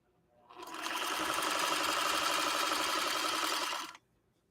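A 1953 Singer 301A sewing machine stitches around a curve in satin material, with a smooth, fast, even whirring run that starts, holds steady for about three seconds, then stops cleanly, close up and alone.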